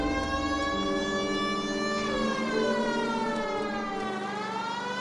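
A loud, steady wailing siren with strong sustained harmonic tones that slowly dip and rise in pitch, continuous and close throughout with no voices.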